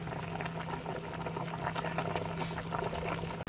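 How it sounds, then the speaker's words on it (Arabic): Olives boil in a pot for Moroccan chicken mhammer with dghmira sauce, giving a steady bubbling simmer heard close and alone, ending on a brief knock. "الزيتون كيتسلق"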